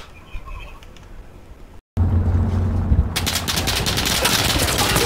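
Loud continuous automatic gunfire in a video game, rapid bursts with a pause, after a quieter opening with faint bird-like coos in the background.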